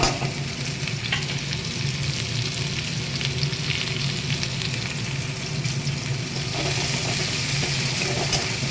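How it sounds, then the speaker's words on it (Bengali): Steady loud sizzling of onions frying in hot oil, continuous crackle with occasional stirring scrapes, no talking. "পেঁয়াজটাকে লাল করে ভেজে নিই।"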